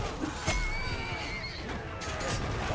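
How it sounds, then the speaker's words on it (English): A horse in the Mount & Blade II Bannerlord video game gives a loud, close whinny amid the noisy din of a medieval battle, with clattering and crashing mixed in. "Get this horse out of the way."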